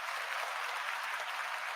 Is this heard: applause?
yes